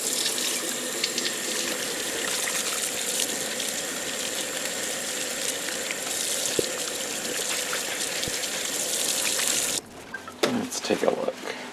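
Water runs steadily from a tap while ice-dyed tie-dye fabric is rinsed in a sink, a continuous broadband gush that drops off near the end, leaving a few splashes and handling sounds.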